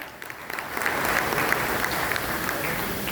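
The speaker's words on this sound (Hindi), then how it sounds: "उनके लिए एक बार जोरदार ताली" An audience at a direct selling and network marketing meeting claps for the leaders. The applause swells from scattered claps into steady, dense clapping that continues throughout.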